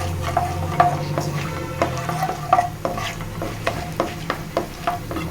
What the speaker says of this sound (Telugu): ఆవాలు, జీలకర్ర, మినపప్పు, 1 మిర్చి మాత్రం వేస్తున్నానండి